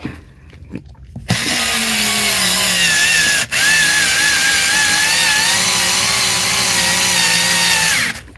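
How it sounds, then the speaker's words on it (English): A small electric screwdriver with a failing motor whirs in one sustained, loud, close run after a few faint clicks, its pitch slowly sagging and briefly dropping out midway before cutting off. "I think the motor in this wee screwdriver's starting to die"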